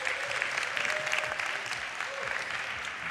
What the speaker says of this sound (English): So if you guys can join me in giving a big round of applause for Jonathan Anderson with Can-Do.